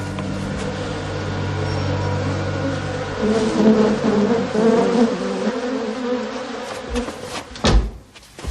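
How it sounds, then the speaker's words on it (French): A swarm of angry bees buzzes steadily and loudly, the drone rising and wavering, followed by a couple of sharp knocks near the end. "je vais vous sauver des méchantes abeilles."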